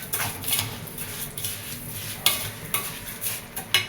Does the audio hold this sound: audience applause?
no